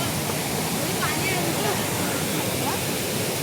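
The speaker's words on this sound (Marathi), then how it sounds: "आता अक्षय जातोय खाली धबधब्यात." A hidden forest waterfall roars in a steady, loud rush of falling water close by, with faint voices barely audible underneath.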